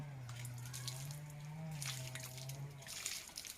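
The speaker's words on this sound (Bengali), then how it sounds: "যেমন আমি প্রথমে ডান হাত তিনবার ধুয়ে নিচ্ছি" Tap water running over hands during wudu, a steady soft splashing and trickling, faint and close, with a low hum underneath.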